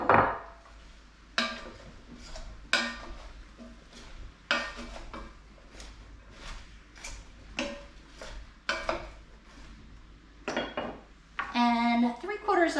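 Chicken, red skin potato chunks, quartered mushrooms and baby carrots stirred together in a pot, with a series of sharp utensil clacks and scrapes against the pot at irregular intervals, close and fairly loud.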